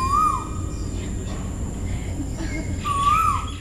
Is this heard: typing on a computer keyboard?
no